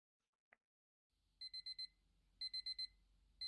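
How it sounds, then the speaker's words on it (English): Alarm clock ringing in the psychological horror visual novel The NOexistenceN of you AND me: two bursts of four sharp, loud electronic beeps over a low hum, after a brief click. "Okay. An alarm."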